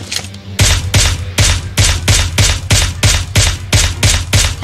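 Rapid automatic gunfire in PUBG Mobile, a steady run of about a dozen loud, evenly spaced shots after a brief quiet start, close and dominant with no talk.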